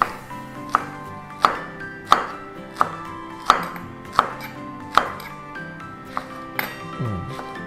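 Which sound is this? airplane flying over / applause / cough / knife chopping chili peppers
knife chopping chili peppers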